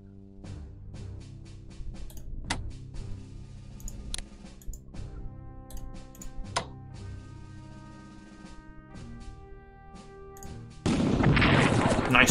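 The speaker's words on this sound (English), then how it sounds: "Any unit that I place here is being carpet bombed by the enemy." Scattered explosions and gunfire from carpet bombing in the Strategic Command war strategy game, sharp booms spaced irregularly over steady talk, ending in a loud, dense roar of blasts.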